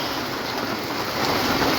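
Steady broadband wash of rain falling in Comilla, Bangladesh, with cold wind, continuous and fairly loud throughout with no pauses, swelling slightly toward the end.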